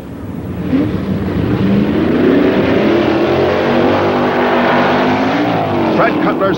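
Drag cars from 1964 in BFX class runoffs, including a Cyclone, launch off the line with loud, rising engine roars that climb in pitch as they accelerate away. Someone narrates over the engines throughout.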